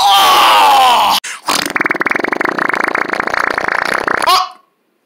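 A long, loud, buzzing flatulent sound rattles for about three seconds after a brief cartoonish voice, ending abruptly in silence.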